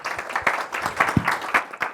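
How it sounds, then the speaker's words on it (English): Applause from a conference audience for a panel speaker at an event on EU grid resilience, a short burst of steady clapping with a few louder claps standing out, no talking over it. "A round of applause for Anna."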